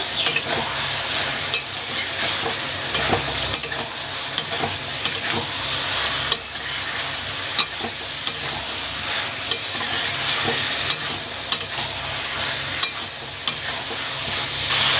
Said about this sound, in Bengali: এবার এই যে চিংড়ি মাছগুলো ভেজে রেখেছিলাম সেগুলো দিয়ে দিলাম, দিয়ে ভালোভাবে মিশিয়ে নেব।